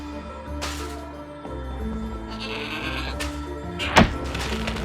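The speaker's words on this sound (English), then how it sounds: "What an amazing goat!" A goat bleats once in the fantasy video game Trine 4, a short loud nasal cry near the end, preceded by wooden thumps and layered over soft game music and ambience.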